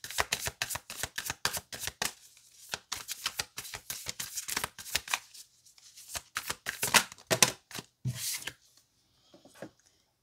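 A tarot deck being shuffled by hand in repeated quick riffling bursts, close and crisp, with short pauses between runs and a few softer taps near the end.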